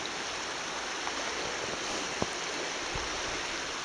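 The Weiser River flows turbulently at a bridge, a continuous broadband rush of water at moderate distance, steady and unbroken, with a couple of faint clicks.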